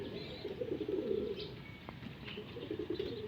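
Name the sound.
racing pigeons returning to the loft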